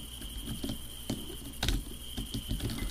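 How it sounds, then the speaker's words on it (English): Crickets chirp steadily in the Granny mobile horror game, a constant high trill with soft patters and scratchy rustles beneath, moderately faint and with no talk over it. "Oh, and I hear crickets now."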